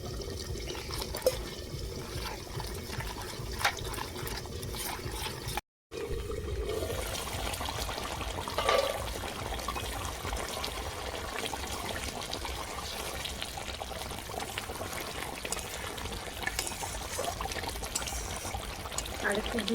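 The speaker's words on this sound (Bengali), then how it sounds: "এবার জল দিচ্ছি আর একটু জল লাগবে" Water poured into an egg korma curry in a pan gives a continuous trickling, splashing stream that runs steadily for most of the stretch, broken by one brief gap, with a voice talking over it.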